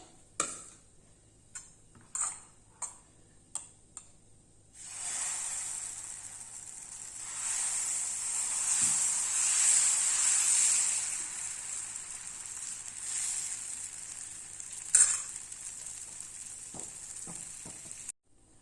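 Instant Karnataka-style dosa batter sizzles on a hot pan, a steady soft hiss that rises after a few light taps and clicks of a utensil, close and fairly quiet.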